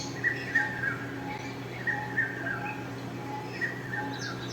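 A cartoon bird chirps as it flies off, giving short, bright tweets in small bursts of two or three, repeated several times at an even pace over a faint steady background.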